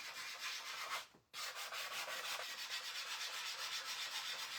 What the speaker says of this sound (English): I am going to sand this just a little bit more.